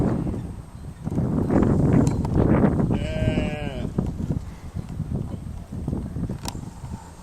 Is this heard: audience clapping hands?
no